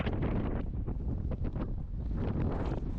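Strong wind buffets the microphone on a boat heading toward a pier in Thailand on a windy day, a loud, continuous roaring rumble with gusty surges throughout, nobody speaking.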